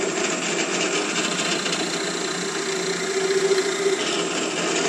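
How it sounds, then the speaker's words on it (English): A twist drill bit grinds steadily into a 2x4 with no backing, a continuous rasping whir with a brief louder push near the end. "drill into a 2x4 with a regular twist drill bit and no back support material"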